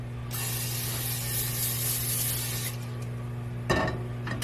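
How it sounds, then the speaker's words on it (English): A steady, close hiss of olive oil cooking spray onto a pan for a few seconds, stopping abruptly, followed by a brief clatter. "we are going to spray this pan with olive oil spray"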